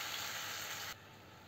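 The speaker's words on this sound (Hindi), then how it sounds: "अभी तड़का हमारा जल चुका, हमने इसमें सब्ज़ी डाल दिया है।" Vegetables for a dry raw-banana curry hitting hot tempering in a pan, a loud steady frying sizzle that drops to a quieter simmering hiss near the end, no voices.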